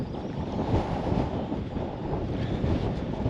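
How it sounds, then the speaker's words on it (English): Wind gusting steadily across open water on the Norfolk Broads in February, a constant loud broadband rush buffeting the microphone throughout, with no voices. "Oh, wind's now getting up."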